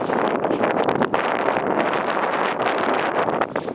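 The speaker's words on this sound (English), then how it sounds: "It's getting really windy." Strong gusty wind from a winter storm slamming New Jersey roars continuously and loudly across the microphone, with rough buffeting surges and no voices.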